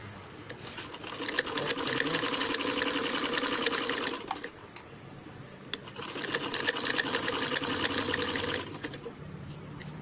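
A sewing machine stitches a blouse in two close, rapid runs of steady mechanical clatter, separated by a brief pause, then stopping.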